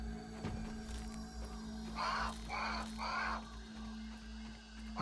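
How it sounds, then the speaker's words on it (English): A crow in the Grounded survival game caws three times in quick succession, loud and fairly near, over steady game ambience and a low hum. "noisy crow."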